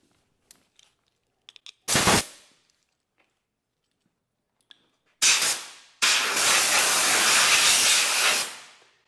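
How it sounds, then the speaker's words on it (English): Compressed air blown over a Wright commercial mower during maintenance to clear buildup, a short hissing burst followed by a longer loud continuous blast of air, close by with no talking. "Might even take a little bit of air and blow some of that off."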